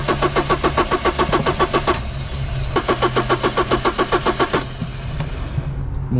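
A diesel HDI/DCI car engine cranks in two long bursts of rapid, even starter-motor pulses with a pause between them, turning over loudly but never catching, then falls quiet.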